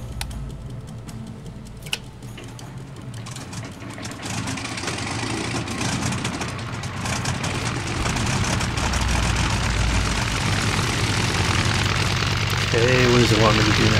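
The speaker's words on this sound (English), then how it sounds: "let's start the engine up" An aircraft engine starts up and builds into a steady, rising drone inside a cockpit in the survival game Stranded Deep, growing louder over the span with a faint click near the start and a brief tonal blip near the end.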